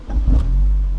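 A Honda S2000 RFY Yamamoto track car fires up, giving a brief, close, low engine rumble that settles into a steady hum.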